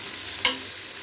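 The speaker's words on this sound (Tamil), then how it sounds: "இப்போ ஆயில் நல்லா கொதிச்சு பின்னாடி வெங்காயத்தை போடுறோம். கட் பண்ணி வச்ச வெங்காயத்தை நல்லா போடுறோம்." Onions going into hot oil and being stirred, a steady frying sizzle with one brief louder scrape of stirring partway through, close by and with no talking.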